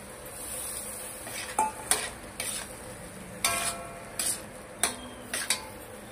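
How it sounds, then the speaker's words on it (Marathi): Vegetables stir-fry in a pan over a low flame, a soft steady sizzle broken by repeated clinks and scrapes of a spoon against the metal, close and moderately quiet. "ही भाजी बारीक आचेवर ठेवून द्या, म्हणजे ते छानपैकी भाजी परतून होते।"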